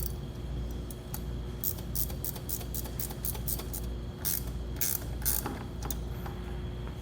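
A ratchet strap clicks as it tightens on a Blue Ox KarGard protective shield for a towed vehicle, bursts of sharp ticks over a steady mechanical hum, close by.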